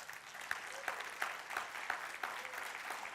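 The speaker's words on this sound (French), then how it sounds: "Est-ce qu'on peut applaudir ce Dieu magnifique ce matin?" A church congregation claps in a soft, distant patter with a few sharper, rhythmic claps standing out, quiet and steady for a few seconds.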